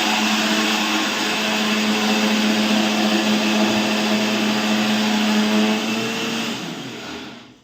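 A mixer grinder finely grinds ingredients for a home birthday meal, giving a loud, steady electric whine close by that holds for several seconds and then winds down as the motor stops.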